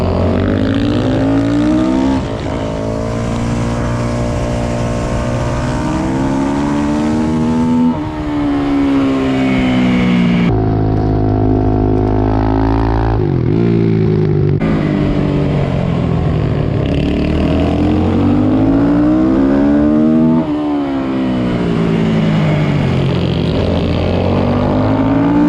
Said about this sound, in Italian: ogni tanto la moto mi perde di giri mentre sto a gas spalancato